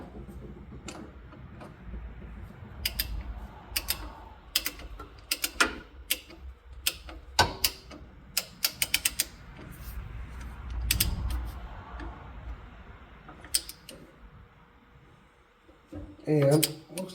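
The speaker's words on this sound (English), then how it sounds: "I'm going to go ahead and torque this down." A wrench torquing down the 1-inch main shaft starter gear on a Panhead motorcycle gives scattered sharp metallic clicks and creaks in a quiet garage, with a denser run of ticks in the middle and a heavier clatter at the end.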